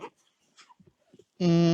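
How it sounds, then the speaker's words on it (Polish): Hunting dog out on a wild boar hunt, giving a sudden loud, sustained whine or yelp that starts after a stretch of faint low sounds and continues to the end. "my i tak puścimy sobie pieska"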